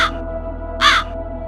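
Two crows perched in a tree give short harsh caws, one faint call at the start and one louder, clearer caw a moment later, alone over a steady low hum.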